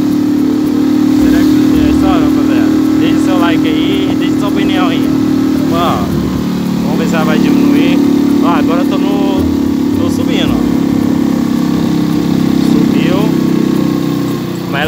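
A Shineray Jet 50cc motorbike engine drones loudly and steadily as it climbs a hill, its pitch dipping briefly partway through, while a rider talks over it throughout.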